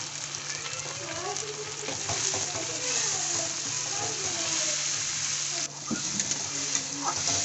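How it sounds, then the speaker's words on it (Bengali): Spices and other ingredients for a Bengali rohu fish curry frying in a pan, with a loud, steady, close sizzle, light stirring scrapes and a brief clatter toward the end, and no one speaking. "এবার সবগুলো উপকরণ আমি ভালোভাবে ভেজে নেব"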